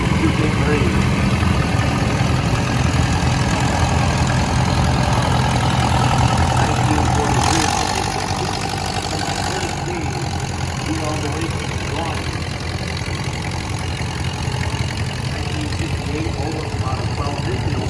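An antique cultivator tractor engine runs steadily in an outdoor parade of power, a continuous low idling rumble heard at moderate distance with crowd and announcer-style talk layered over it throughout.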